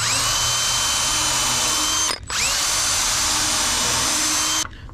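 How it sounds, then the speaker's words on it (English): A power drill with a slightly larger bit countersinks screw holes in wood, whining loudly and close in two sustained runs separated by a brief pause. "We get a slightly bigger bit and countersink it."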